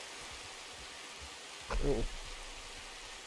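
Soft, steady rainfall in the video game Red Dead Redemption 2 hisses quietly in the background while a voice briefly exclaims.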